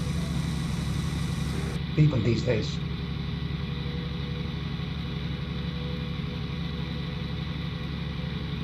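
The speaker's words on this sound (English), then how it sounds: "You see a tractor climbing the pavement" A tractor engine in Farming Simulator 19 drones at a constant idle throughout, with a voice speaking briefly over it.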